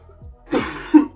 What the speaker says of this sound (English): I'm coughing way too much